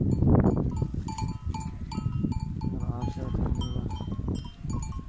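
Goats on a farm in Turkey bleating repeatedly close by, with cowbell-like clanks and low background noise.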